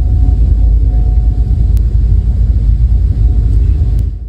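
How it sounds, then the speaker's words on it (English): A low, steady rumbling hum like a distant generator runs through a residential neighborhood in North St. Louis County. It stays constant and deep, with faint brief clicks. "The low rumble sounds like a generator running in the distance."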